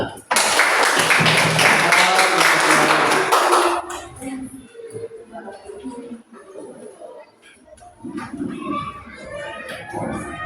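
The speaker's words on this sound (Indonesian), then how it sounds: "Silakan tepuk tangan." Students in a classroom clap together in a loud, dense burst lasting almost four seconds. The clapping then stops abruptly, and children's chatter and an adult voice follow.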